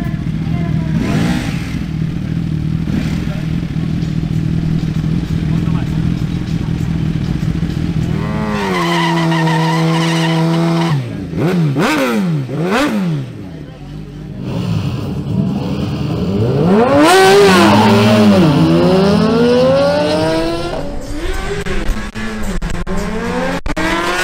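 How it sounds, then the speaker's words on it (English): Ducati Panigale V4 and Suzuki GSX-R1000 sport bikes at a drag race: a steady engine drone, then sharp rising and falling revs with quick gear changes, a dip, and another loud surge of high-pitched revving as the bikes launch and accelerate. "The next showdown features the Ducati Panigale V4 ridden by Ruben Torres against Edward Manzan"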